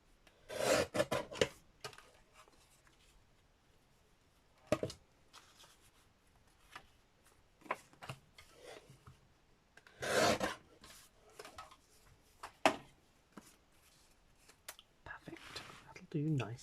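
A paper page for a junk journal is trimmed up close in quiet, intermittent bursts of rasping cuts separated by pauses, with soft low voices in places.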